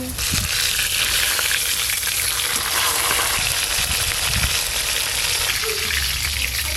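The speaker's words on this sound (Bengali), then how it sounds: "মাছগুলো ভাজা হয়ে গেছে, বেশ ভালো করে লাল লাল করে ভেজে নিয়েছি" Pieces of silver carp frying in a pan give a steady, loud sizzle with wet crackle running all the way through, and faint low knocks sound now and then underneath.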